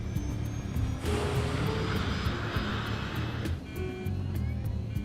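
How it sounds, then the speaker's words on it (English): A jet airliner at takeoff roars loudly and continuously, its engine noise surging and rumbling with a harsh crackle, heard from nearby outdoors. "It's a very noisy engine with a particularly nasty crackle to it."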